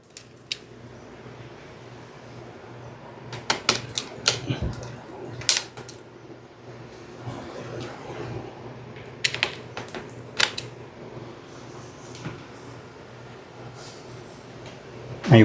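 Screws being backed out of an Acer Nitro 5 gaming laptop during a thermal paste change, heard as scattered close clicks, ticks and small metallic scrapes over a faint steady hum, with brief bursts of activity.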